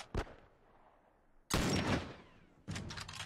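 A sniper rifle fires in The Last of Us, a few sharp loud reports with ringing decay and a burst of rapid shots at the end, no talk over them.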